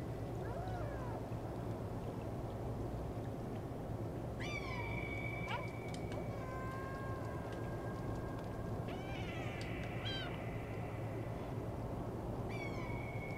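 Cats meow several times in the Stray video game, short rising and falling cries scattered over a dense, constant ambient wash with a low rumble.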